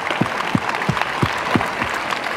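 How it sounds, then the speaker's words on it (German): A large convention crowd at an anime event applauds cosplayers after a group performance, a steady dense wash of clapping with a few stronger thumps standing out. "einen großen Applaus an alle Cosplayer"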